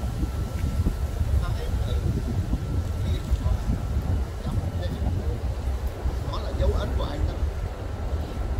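Wind buffets a microphone beside a roadside with passing traffic, a loud continuous low rumble and rush throughout, with a person talking over it.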